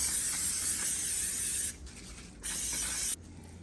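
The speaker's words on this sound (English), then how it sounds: "we're going to spray our pan" Cooking spray hisses onto a cake pan in two steady bursts, broken by a short pause, close and fairly quiet.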